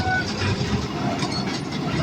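A small toy train runs through a garden, giving a muffled, continuous rumble amid outdoor noise and background chatter from people nearby.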